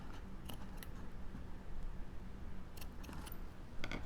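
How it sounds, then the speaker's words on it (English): Scissors trimming the edges of a paper craft box, a few crisp snips heard in brief clusters close up over a steady low background hum. "Trim off my edges."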